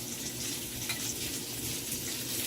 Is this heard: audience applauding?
no